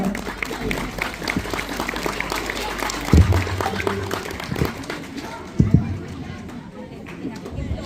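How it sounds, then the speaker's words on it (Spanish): Applause at a school's thirtieth anniversary ceremony, a sustained wash of many hands clapping with crowd chatter and voices underneath, a couple of loud thumps standing out midway. "¡Aplausos!"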